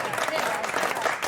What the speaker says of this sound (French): Applaudissez votre équipe.